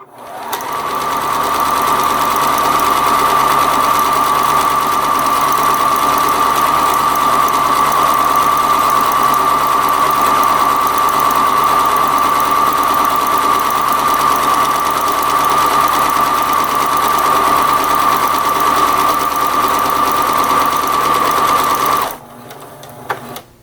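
A sewing machine stitches a buttonhole on a Halloween bat vest with its foot pedal held down, a loud, steady, fast mechanical whir that runs close for about twenty seconds and then stops on its own.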